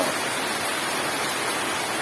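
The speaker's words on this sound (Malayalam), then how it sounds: "എന്തിട്ട മഴ, ഗംഭീര മഴ കേട്ടാ. പെട്ടമഴ എന്ന് പറഞ്ഞ പെട്ടമഴ. ഇതാണ് മഴ." Heavy rain pours down at midday in a steady, dense hiss without a break, loud and close with no voices.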